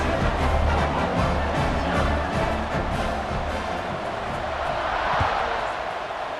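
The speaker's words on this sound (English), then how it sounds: "this crowd is buzzing after that last score" A stadium crowd in the college football video game College Football 26 keeps up a dense, continuous roar after a score, loud and unbroken throughout.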